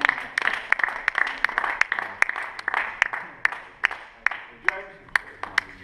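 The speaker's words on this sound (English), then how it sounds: "I want to give a warm round of applause for James." An audience claps at a touch tennis awards ceremony in scattered, sharp, moderately close applause, with a presenter talking over it.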